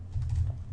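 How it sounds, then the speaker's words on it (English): Soft typing on a computer keyboard, a brief run of quiet keystrokes over a low steady hum, with no voices. "Sorry for my typing skills, for my bad typing skills."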